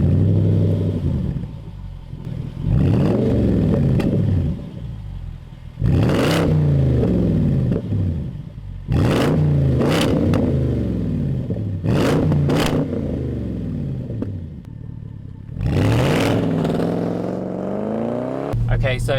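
A straight-piped, supercharged 5-litre V8 Jaguar XF R revs loudly and repeatedly, each throttle blip rising and falling over a deep rumbling idle, close up.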